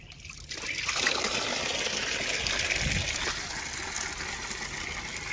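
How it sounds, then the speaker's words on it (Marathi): Tap water pours steadily into a tub for animals to drink from, a continuous close splashing rush that stays even throughout with no voices. "मग टपात एका साईडला पाणी पडतं, एक साईडून पेतात मस्त पैकी"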